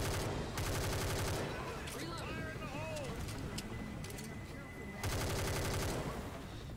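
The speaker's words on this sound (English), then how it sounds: "See, I like this gun right here." Rapid automatic gunfire in a video game, dense and continuous at the start and again near the end, with a busier mix of game sounds between the bursts.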